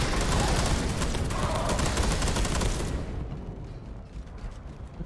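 Dense, loud sustained gunfire in Space Hulk: Deathwing Enhanced Edition, a continuous roaring barrage for about three seconds that then cuts off, leaving quieter rumbling and clanks.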